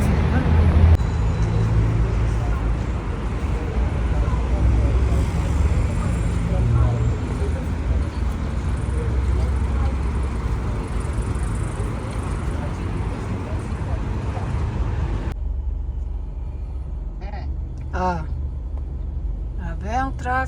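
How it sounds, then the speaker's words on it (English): Continuous road traffic noise in Dubai, a dense steady rumble of passing cars and buses heard from inside or near a vehicle, with a person talking over it and a quieter cabin stretch near the end. "Grabe ang traffic."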